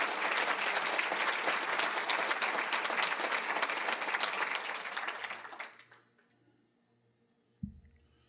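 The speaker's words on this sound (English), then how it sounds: "one more round of applause for all our great male nominees." A banquet hall audience at a citizen of the year awards ceremony gives a sustained round of applause for the male nominees, steady and full before fading out to near silence.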